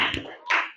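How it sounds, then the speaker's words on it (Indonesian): Small audience clapping hands in two short bursts, a brief patter of claps followed by a second louder burst that fades, close and clear with no talk over it. "Tepuk tangan dong."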